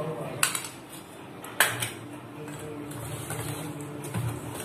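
A spoon beats cream biscuit cake batter in a bowl, with a couple of sharp clinks against the side over a soft, continuous stirring sound.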